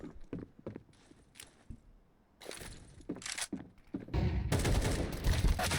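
Short bursts of gunfire in a Counter-Strike 2 wingman match crack out as two players trade shots, scattered sharp reports followed by a louder, denser volley near the end.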